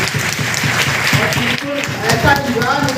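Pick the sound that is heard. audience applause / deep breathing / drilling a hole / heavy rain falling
audience applause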